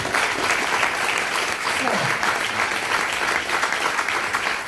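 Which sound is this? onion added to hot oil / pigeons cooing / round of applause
round of applause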